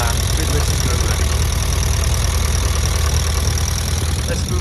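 Engine of a 1950 Ford Prefect idling steadily with its belt turning, a loud close rumbling drone with a low, even beat throughout.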